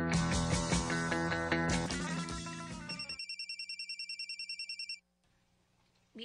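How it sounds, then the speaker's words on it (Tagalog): Cellphone ringtone plays loudly, a dense musical jingle followed by a rapid repeating electronic ring pulse that cuts off abruptly, with no talk. "BFF, imong cellphone bagting."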